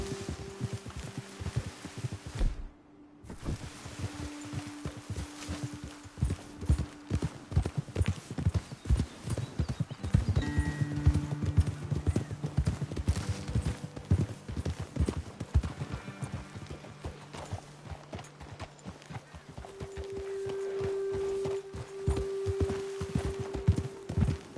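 Horse hooves clip-clop on a trail in the video game Red Dead Redemption 2, a steady rhythmic walking gait of close, crisp hoofbeats from more than one horse, with a soft music bed and a few brief pauses.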